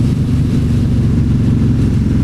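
A Yamaha Raider motorcycle with a 113 cubic inch V-twin pulls hard in fifth gear at around 70 mph, a loud, steady, deep throbbing engine drone with no break.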